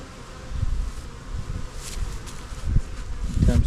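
A steady, low insect drone of honeybees around a strong colony's hive, close by, with rustling and handling noises from the beekeeper mixed in.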